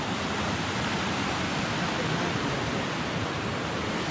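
A creek tumbles down near a faint trail on the June Lake Loop at Mount St. Helens, Washington. The water gives a steady, close, unbroken rushing roar with no talk.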